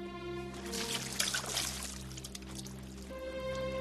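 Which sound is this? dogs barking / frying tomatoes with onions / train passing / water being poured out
water being poured out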